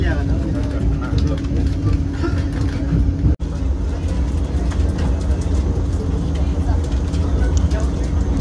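Steady rumbling drone of a Vande Bharat train in motion, heard from inside the executive coach, with a brief dropout partway through and someone speaking over it.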